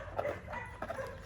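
A few short barks from a dog, faint and somewhat distant, in two quick bursts.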